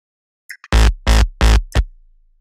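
Synth bass in a UK/happy hardcore track made in FL Studio, widened with an iZotope Ozone Imager stereo effect: a couple of faint short blips, then four loud sustained notes in a steady rhythm, the last one clipped short, with no talk.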